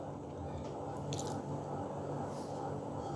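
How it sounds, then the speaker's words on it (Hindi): Taro and eggplant being stirred together with spices in a pot, giving a steady, wet squishing and dripping sound with no talking. "इनको आपस में अच्छी तरह मसाले में मिक्स कर दीजिए"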